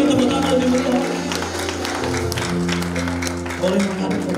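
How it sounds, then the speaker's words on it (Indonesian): Congregation clapping after a couple is declared married at a church wedding, a lively crowd applauding over steady music with voices mixed in. "Beri tepuk tangan lebih meriah."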